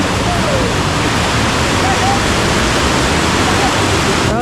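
Sekumpul waterfall and a rushing, gurgling river in Bali heard up close, a loud, steady roar of falling and churning water with no break.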